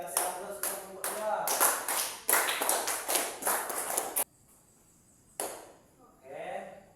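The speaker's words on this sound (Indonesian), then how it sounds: "kasih aplaus untuk yang kedua" Applause in a classroom for a second student's turn, a burst of clapping from a small group running several seconds, then breaking off into quiet with a few scattered claps and a soft voice at the end.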